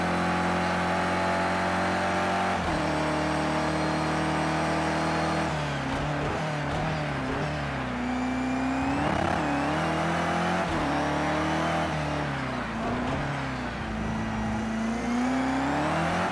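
A GT race car roars around the Long Beach street circuit in a racing video game. The engine is loud and continuous, with its pitch rising and falling as the car accelerates, revs up and lifts off through corners.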